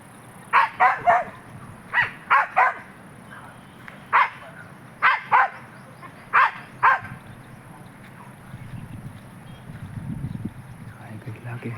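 A dog barks in a forest clearing, giving short sharp barks in quick pairs and triplets over about seven seconds, fairly close and loud, before fading into a low background rumble.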